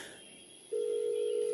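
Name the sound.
telephone call ringing unanswered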